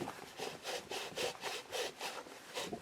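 Scott PRO filter screwed by hand into a GOST gas mask, giving a rhythmic series of about eight raspy scraping strokes of thread against thread, close and fairly quiet with no talk.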